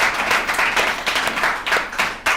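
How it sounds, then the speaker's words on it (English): A group at a recovery alumni meeting claps together, a continuous brisk patter of many hands with small swells, fairly loud and close. "Let's give ourselves a round of applause."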